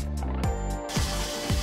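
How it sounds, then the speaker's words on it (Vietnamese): Water gushes from an opened tap in a steady, close splashing stream that begins partway through, after a few brief soft sounds. "Mở vòi nước trong cái hình thái sang chảnh."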